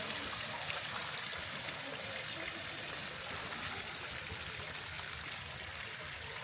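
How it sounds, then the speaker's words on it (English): Continuous broadband rushing of a waterfall falling into a resort pool in the Ubud jungle, Bali, steady and fairly distant, with no break. "Lower pool with waterfall."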